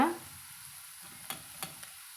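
A spoon stirs grated coconut through a snake gourd stir-fry in a pan over a quiet sizzle, with a few soft scrapes and taps close by.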